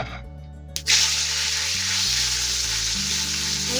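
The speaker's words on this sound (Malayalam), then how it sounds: "ഇനി ഈ സംഭവം ഉണ്ടല്ലോ, നമ്മൾ ഉണ്ടാക്കി വെച്ചിട്ട് നമ്മൾ ഫ്രൈ ചെയ്തെടുക്കണം." Oyster mushrooms drop into hot coconut oil and burst into a loud, steady sizzle that holds at a constant level, with a low background hum running underneath.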